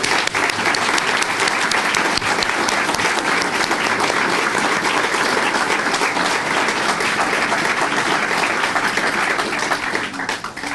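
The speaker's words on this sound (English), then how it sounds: "let's please give them a round of applause" An audience at a new building opening celebration for an adult transition center breaks into steady, loud applause, sustained dense clapping that fills the room and tapers slightly at the end.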